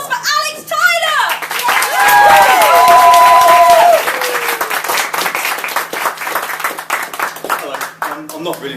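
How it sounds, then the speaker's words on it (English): A poetry night crowd at the Edinburgh Fringe bursts into loud applause with whoops and hollers for a poet, dense clapping under cheering voices that tapers off over several seconds. "Can we have a massive, whooping, hollering round of applause for Alex Tyler?"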